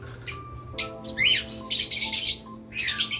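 Pet Society finches and other finch pairs in an aviary give repeated sharp chirps and squawks in bursts, close and fairly loud, over a faint steady background hum.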